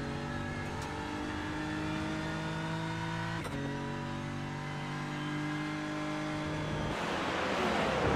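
GT3 race cars, a Porsche and a Ford Mustang, in a sim racing game at Brands Hatch: a loud, sustained engine whine shifts pitch with a brief gear-change dip, then a second car's roar swells near the end.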